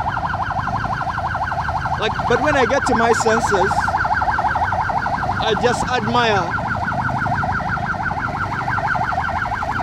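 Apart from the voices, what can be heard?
ambulance siren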